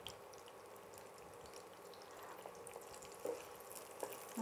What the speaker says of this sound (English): you can hear them starting to sizzle